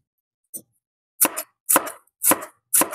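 A knife slices cucumber for a cucumber salad on a cutting board, giving one light tap followed by four crisp, evenly spaced chops, close and clear with no voices.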